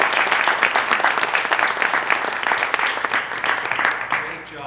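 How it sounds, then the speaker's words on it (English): An audience at a school committee meeting applauds, a burst of close, dense clapping that fades toward the end, with some voices mixed in. "One more round of applause, please."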